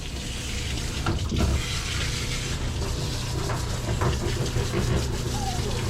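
Running tap water rinses soap off a dog, a close, steady splashing stream that holds its level throughout with slight surges.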